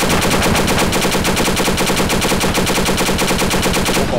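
Sustained machine gun fire in the video game ArmA 2, loud rapid bursts hammering continuously without pause for several seconds.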